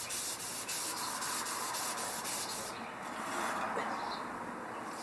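Steady rough rubbing of wet sanding on the painted body of a 1966 Chevy Caprice lowrider, a close, continuous scratchy hiss with a faint regular stroke rhythm at first, then softer and smoother.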